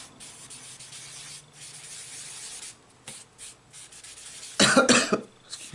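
A person coughs in a short loud burst near the end, after quiet rubbing and sanding-like strokes of pastel and pencil on paper at a close distance.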